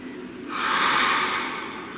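A single slow, deep breath, an audible airy inhale that swells and fades over about a second and a half in a quiet room.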